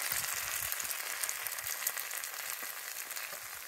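Scrambled eggs sizzling in a cast iron pan over a Firebox camp stove outdoors, a soft, steady crackling fry with small popping spatters, faint and continuous throughout.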